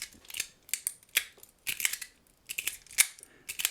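Fablades gamer slider fidget toy being slid and rotated, giving sharp little clicking snaps in quick irregular bursts, close and crisp against a quiet background.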